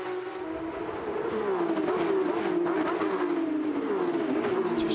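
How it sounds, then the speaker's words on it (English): Porsche Carrera Cup GT sports cars race at Toronto in 2022, their engines a continuous loud roar that swells and shifts in pitch as the cars pass and change gear, with no talking. "Hope you're enjoying the sights and sounds of these fantastic GT sports cars."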